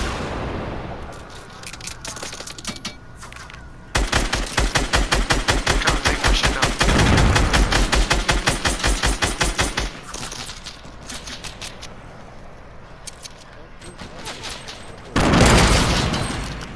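Rapid automatic gunfire in a video game, loud sustained bursts of closely spaced shots hammering at an enemy base, with short pauses between volleys and a final heavy burst.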